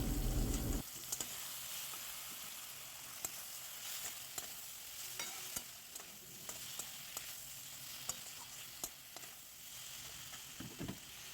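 A ginger and spice paste of turmeric, cumin and coriander powder mixed with water, stirred as it fries in a pan for a soybean dish: a steady close sizzle, with a louder burst at the start and scattered spatula scrapes and clicks throughout.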